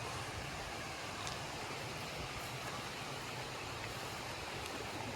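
River water rushes near a waterfall at Bolton Abbey in the Yorkshire Dales, a steady broadband roar heard from a short distance, constant and moderately faint, with no voices over it.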